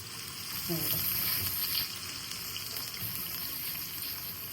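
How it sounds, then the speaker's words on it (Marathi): Garlic for an Agri-style jitada fish head curry frying in hot oil gives a steady, close crackling sizzle throughout, with faint kitchen clatter and a brief voice-like murmur near the start. "आता आपण याच्यात लसूण फोडणार आहोत"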